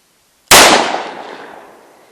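A single sharp .45 ACP +P gunshot from a Liberty Civil Defense round fired into ballistic gel, a loud close crack followed by a ringing decay that fades over about a second and a half, with no talk.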